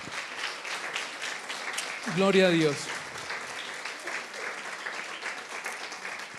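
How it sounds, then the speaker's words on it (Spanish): A church congregation bursts into brief applause during a Spanish-language service, a short swell of clapping rising under a voice that speaks over it before settling back into room tone. "Démosle un aplauso al Señor."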